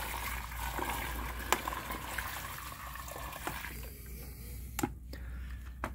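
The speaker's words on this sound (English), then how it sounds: "Let's pour some of the water out if I can't quite see to the bottom of it." Water pours out of a container holding an adobe brick that has been left to soak, giving soft splashing and trickling with a few sharp clicks, fairly faint and close.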